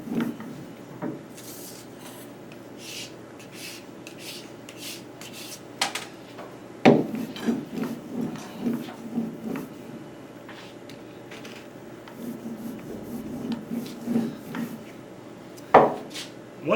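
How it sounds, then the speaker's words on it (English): Wet clay slab being trimmed at the top edge and wooden guide boards slid along a work surface while handbuilding a slab mug, giving soft scraping and rubbing with a few sharp wooden knocks, close and moderately quiet. "And then let's trim off this extra at the top. Slide these boards up just a little bit."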